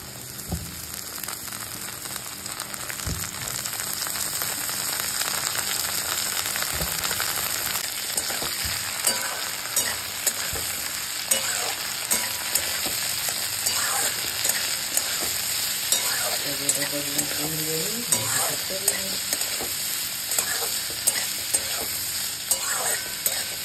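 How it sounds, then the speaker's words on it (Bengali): Greens stems stir-fried with potatoes in a home kitchen pan, a steady loud sizzle with scraping stirs and clinks of a utensil running throughout, no voices. "আলু ভাজা হয়ে গেছে, এবার শাকের ডাঁটাগুলো দেবো।"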